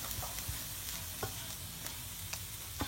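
Potato podimas sizzles softly in a pan over high heat while a spoon stirs and scrapes it, with occasional light clicks against the pan over a steady, quiet frying hiss.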